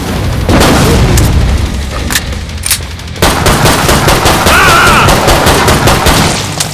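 Loud rapid gunfire from weapons in Killing Floor 2, with dense automatic bursts, single heavy shots and booming impacts coming close and continuous, plus a brief electronic tone partway through.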